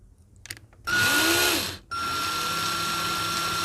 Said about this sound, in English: see the drill bit going down the post and clearing away the material.